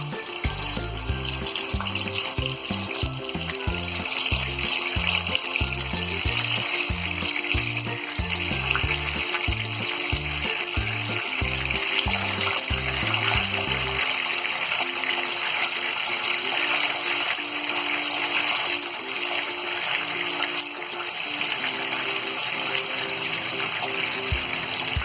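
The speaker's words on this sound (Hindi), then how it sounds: "अब इसी में हम ये फिश को फ्राई कर लेंगे।" Fish fried in hot oil in a pan, the oil reused from frying onions, gives a steady close sizzle and crackle with soft spattering throughout, no talking.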